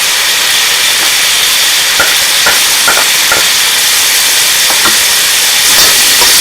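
Onions tossed into a hot stir-fry pan alongside shrimp, chicken and vegetables give a loud, steady hiss and sizzle, with a few sharp clicks and clatters of stirring breaking through it.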